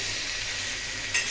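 Broad bean curry sautéing with turmeric, chili, ginger and garlic, a brief, steady close sizzle that swells slightly at the end.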